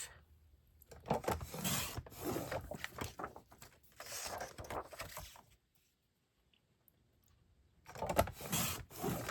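Paper card mats being cut to size for scrapbooking, with a few bursts of scraping, rubbing cuts separated by quiet pauses, fairly faint and close, no talking.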